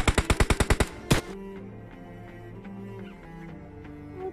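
Rapid burst of about eight loud gunshots from a video game team deathmatch, followed by one heavier shot, then quieter game sounds and tones trailing behind.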